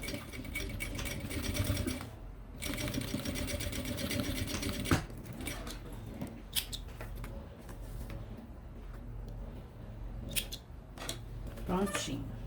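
A sewing machine stitches a Kipling-style fabric pencil case, whirring in close bursts with short pauses and clicks between runs, while a voice talks quietly at times.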